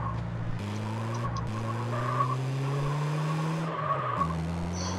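A car in the video game SAMP (San Andreas Multiplayer) drives with a droning engine whose pitch climbs and drops through gear shifts, with tire skidding and squeal noise layered over it, steady and loud without talk.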